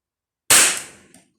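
A single sharp rifle shot from a CZ 457 AT-ONE with a 24-inch barrel at a shooting range, a loud crack that decays over about half a second, heard alone.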